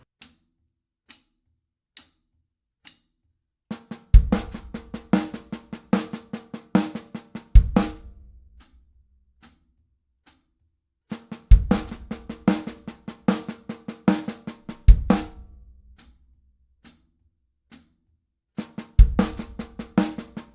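Paradiddle sticking patterns played very slowly on a drum kit, steady alternating strokes punctuated by louder accented hits with deep bass-drum thumps, played in four repeating phrases with brief gaps, close and alone.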